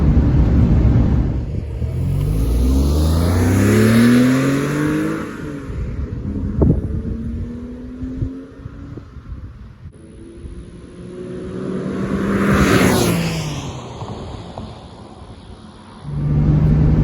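Porsche 996 flat-six engine with delete pipes revs hard twice, each sweep climbing and falling as a loud, raspy close-up roar with a lower idle rumble between bursts.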